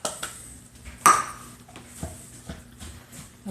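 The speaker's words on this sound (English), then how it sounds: "We're going to stir it up." Spoon clinks against a dish while broccoli floret chicken casserole is stirred, a sharp close clatter near the start followed by softer scattered taps and scrapes, no voices.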